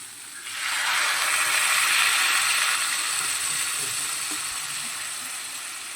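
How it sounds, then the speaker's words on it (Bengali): Water poured into a hot pan of potato, pointed gourd and soybean curry, setting off a loud, sustained hiss of sizzling that starts abruptly and slowly eases. "এবারে আমরা পরিমাণ মতো জল দিয়ে দেব।"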